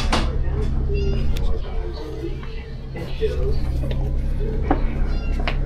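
A few short kitten meows, fairly faint, come through over a steady low hum and background noise, with people talking nearby.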